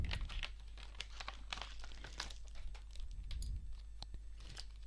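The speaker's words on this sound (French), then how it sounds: "mon ciseau il coupe super bien" Scissors snip through packaging while a Pokémon card tin is opened, a quiet run of small crinkly cuts and rustles over a low steady hum, close to the microphone.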